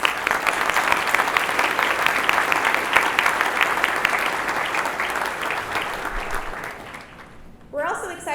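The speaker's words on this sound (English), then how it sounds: "Let's give them all one more round of applause." An audience at a chamber of commerce annual awards ceremony applauds loudly and steadily for several seconds, the clapping fading out before a voice speaks at the end.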